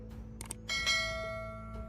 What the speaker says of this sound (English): the slow, echoing toll of the bells at Windsor Castle